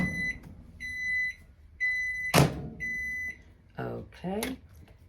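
A microwave oven cooking scrambled eggs in a silicone bag sounds a series of steady, evenly spaced electronic beeps over a faint running hum, with a sharp clunk midway and a person talking briefly near the end.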